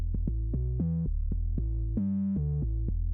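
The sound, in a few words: synth bass line for Risk of Rain 2 soundtrack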